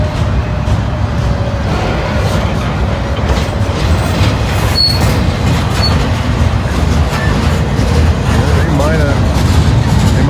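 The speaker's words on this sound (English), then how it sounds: "Might have got the steel coil train out of the way." A steel coil freight train rolls past near a rail yard with a loud, continuous rumble, rattling wagons, clicking wheels over the joints and occasional faint squeals.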